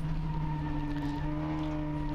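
Classic hatchback race cars in a 750MC series braking into Brooklands corner at Silverstone, a loud sustained multi-engine drone with steady tonal whine and tire noise under it, continuous for the whole stretch.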